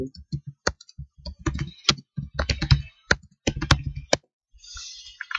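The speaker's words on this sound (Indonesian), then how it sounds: "saya ketikkan lagi" Someone types on a computer keyboard while entering data in an accounting application, producing irregular bursts of close, crisp key clicks separated by short pauses.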